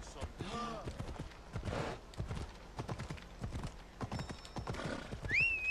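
Horse hooves clip-clop at a gallop with a whinny near the end, from a ridden mount in the video game Assassin's Creed Odyssey; someone talks loudly over the hoofbeats throughout.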